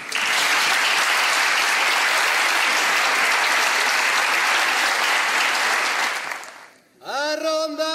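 Loud, dense audience applause for a folk group of young tambourine players at a folklore contest and showcase in Oviedo, steady for about six seconds before fading, then giving way to singing voices.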